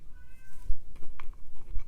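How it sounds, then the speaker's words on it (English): Faint cat meows and cries, a few short plaintive calls over a low background rumble. "I'm sorry if you hear cats crying."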